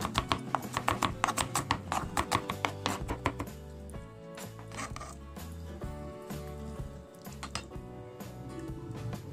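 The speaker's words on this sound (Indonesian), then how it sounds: "bawang putih kita cincang halus" Garlic being finely minced with a knife on a board: rapid, sharp chopping taps in quick bursts, close and crisp, later a steadier stream of lighter taps.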